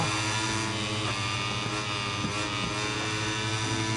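A two-stroke engine building up power, a loud, steady buzzing drone with a dense whining tone that holds throughout, close by and without speech.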